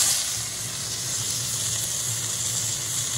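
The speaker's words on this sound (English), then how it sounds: "I'll give it a nice sear." Venison roast searing in a smoking-hot pan over high heat, a steady unbroken hiss and sizzle with a faint low hum beneath, close and constant.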